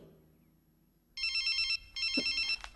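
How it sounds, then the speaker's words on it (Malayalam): A telephone rings in a classroom, with two bursts of electronic ringing, each roughly half a second long, separated by a short gap. They come through clearly over a quiet room. "Whose phone is that?"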